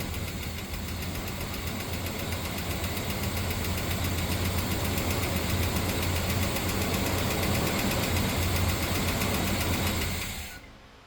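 A 1974 Chevrolet C10 pickup, off the road for 15 years, runs and idles to warm up, its engine giving a steady, close, rumbling drone with faint knocking before cutting off at the end.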